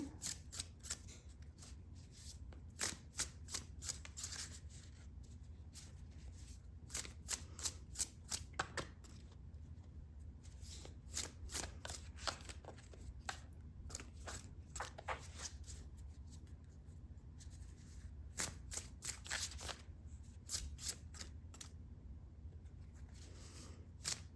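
A tarot card deck being shuffled up close: quiet clusters of quick, papery flicks and riffles that come in bursts separated by short pauses.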